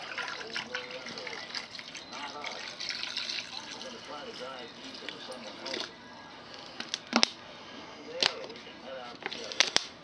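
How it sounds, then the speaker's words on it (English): Water trickles and splashes into a crock pot, fairly quiet, with a few sharp clinks and knocks near the end. "Add in some water."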